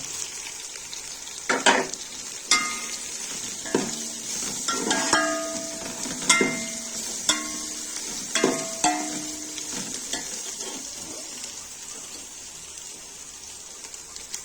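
Black pepper and cumin hit hot oil in a pan and sizzle, with a steady frying hiss broken by repeated clinks and scrapes of stirring, close and fairly quiet.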